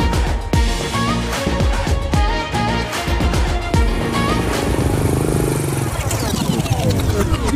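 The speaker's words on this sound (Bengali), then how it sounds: "মোটরসাইকেল জোরে চালা, তাড়াতাড়ি যা" A motorcycle races along at speed, its engine revving and roaring loudly and steadily throughout, with voices talking over it.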